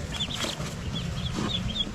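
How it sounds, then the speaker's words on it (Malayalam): Newly hatched ducklings from an incubator give repeated high, thin peeps over a low, busy rumble, close by. "ഇൻക്യുബേറ്ററിൽ വെച്ച താറാവ് മുട്ട വിരിഞ്ഞു കുട്ടികൾ ഇറങ്ങിയിട്ടുണ്ട്"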